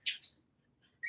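A small hand-raised parrot gives two quick, high chirps back to back, then a third after a short pause, close and clear in a quiet room.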